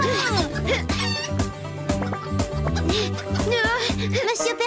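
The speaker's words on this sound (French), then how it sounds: "Arrêtons vite ces poules!" Cartoon chickens cluck excitedly in a French children's animated show, with busy background music and voiced characters speaking over the fowl noises.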